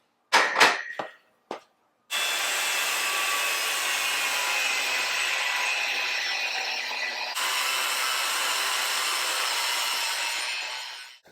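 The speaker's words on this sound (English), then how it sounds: "So I'm going to go ahead and cut down with my angle grinder, get it cut down to where I want it to be." An angle grinder cuts through metal brackets for a Jeep Cherokee XJ rear bumper, loud, continuous and close, after a few short scraping knocks at the start; the tone shifts slightly midway and the sound runs steadily to the end.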